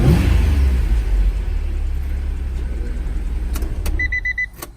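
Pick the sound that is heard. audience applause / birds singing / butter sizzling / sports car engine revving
sports car engine revving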